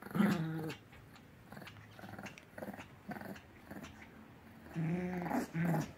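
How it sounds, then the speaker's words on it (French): Two dogs, Suki and Oreo, growl in bursts while tugging and wrestling over a plush toy on a sofa, the low rumbling snarls rising and falling across the stretch with quieter scuffling between. "les chiens sont en train de se taper un délire avec la peluche"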